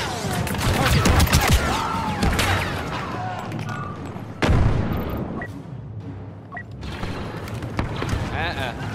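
Chaotic Star Wars Battlefront II battle sounds with continuous blaster fire and a sudden booming grenade blast midway, mixed with dense game noise and voices throughout.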